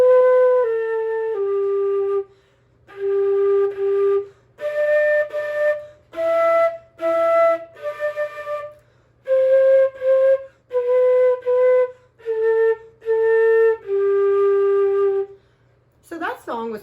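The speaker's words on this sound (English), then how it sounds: "And our flute is going to sound like this." A solo flute plays the melody of Twinkle Twinkle Little Star, clear sustained notes in a steady phrase with short breaths between groups, close and alone with a faint low hum beneath.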